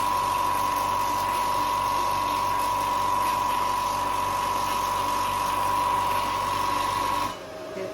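A CoolSculpting machine pumping water through itself to flush it clear, a steady loud motor whine with a constant tonal hum that cuts off abruptly near the end.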